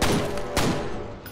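Pistol gunfire in the video game F.E.A.R., a couple of sharp loud shots with a booming thud at the start and another crack midway, close and unvoiced.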